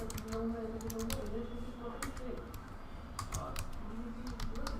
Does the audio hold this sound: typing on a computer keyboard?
yes